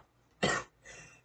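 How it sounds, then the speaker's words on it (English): A single sharp cough bursts out close and loud, followed by a softer, breathier second cough or throat clear a moment later, with no talking over it. "And I've got to get rid of this stupid cough."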